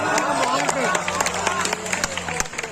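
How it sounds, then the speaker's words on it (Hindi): Scattered applause from the back rows of the audience at a poetry recital, as light, uneven claps that sit beneath a voice speaking loudly throughout. "पीछे वालों की तालियां आई हैं।"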